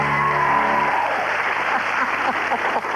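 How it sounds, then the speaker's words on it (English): A studio audience on a radio show applauds the chef; a held musical chord rings for the first second, then a dense, loud round of clapping continues steadily. "What about a round of applause for the chef?"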